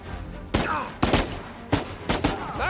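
Four sharp gunshot bursts ring out in Uncharted 4, spaced roughly half a second apart, loud and close with brief ringing tails between them, and no talk.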